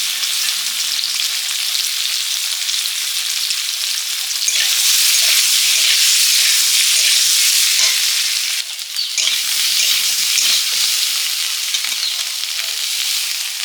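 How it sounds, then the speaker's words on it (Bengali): Potatoes frying lightly in oil in a home kitchen, giving a steady, close, loud sizzle that swells a little midway and carries on without a break, with no talking. "আলুগুলো হালকা ভেজে নিচ্ছি"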